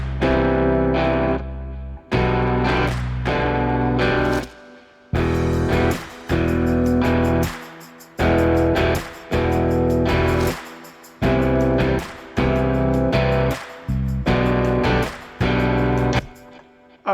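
Distorted electric guitar in a stomp-clap southern rock mix with reverb added, heavy chords in repeated bursts separated by short gaps, each phrase trailing off into ambience, loud and close with no voices.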